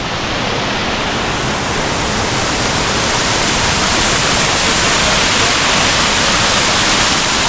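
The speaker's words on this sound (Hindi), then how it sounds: "मस्त वाटरफॉल गिर रहा है उधर" A loud, constant roar of rushing water, like a waterfall heard up close, steady and unbroken throughout, near Rainbow Falls and the Double Decker Root Bridge.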